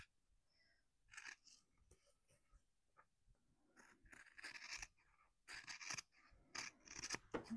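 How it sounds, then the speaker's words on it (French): Scissors snip through fabric right along a seam line while a wallet is being sewn, a series of close, crisp cuts coming in irregular bursts with short quiet gaps between them. "Donc je coupe vraiment à ras de ma ligne de couture."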